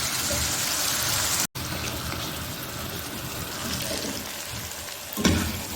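Mutton karahi fries in oil in a steady, loud, close sizzle that rushes on almost unbroken, dropping out for an instant and ending with a brief clatter.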